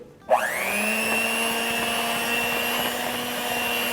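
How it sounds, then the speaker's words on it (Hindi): An electric mixer blending dahi bhalla batter whirs to life after a moment of quiet and keeps running at a steady high-pitched drone, close and loud, with no talking. "यही इलेक्ट्रिक मिक्सर ही ले लूँगी।"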